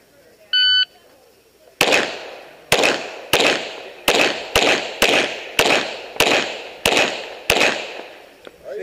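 Glock pistol shots ring out in a string of about ten sharp, loud reports at a steady rhythm during an outdoor GSSF match run, preceded by a shot timer's beep.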